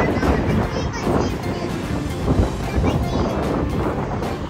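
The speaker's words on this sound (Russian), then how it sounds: "ветер ледяной" Cold, icy wind blowing outdoors on a summer day, buffeting the microphone with a continuous low rumbling roar that surges and eases throughout.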